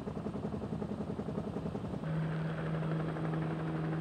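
Vietnam-era Slick transport helicopters come in to land, their rotors beating a steady, loud thump that turns heavier halfway through as a deep, sustained engine drone takes over.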